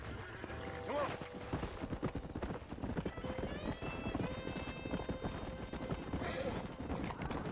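Steady clip-clop of horse hooves in the Red Dead Redemption video game, a rhythmic trot with occasional whinnies, under game music and a speaking voice.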